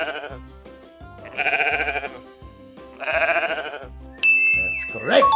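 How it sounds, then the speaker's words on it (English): Sheep bleating in two long wavering cries, loud and close over a light backing tune, followed by a bright ding. "That's the sound of a sheep."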